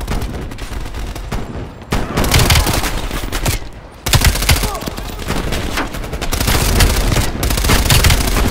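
Shotgun blasts and other gunfire in Call of Duty: Black Ops Cold War, with dense, loud, rapid shots that come in long stretches and pause briefly twice before starting again.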